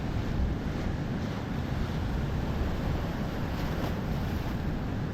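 Heavy swell and rough surf roar steadily along a sea shoreline, a loud, continuous wash of crashing waves mixed with wind buffeting the microphone, with no talking.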